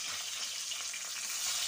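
Rohu fish fries in hot oil in a pan. A continuous bright sizzle crackles close up, loud and even, with no voices.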